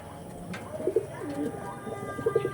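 Pigeons sold as original breed birds cooing in a market setting, several soft low coos in short bursts, moderately close with a faint busy background.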